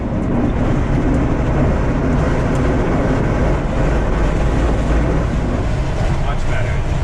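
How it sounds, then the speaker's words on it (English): Light aircraft, likely a glider on tow, taking off on a training flight, with a loud, steady broadband engine and wind roar filling the whole stretch without a break. "We're taking off for our second flight of the day"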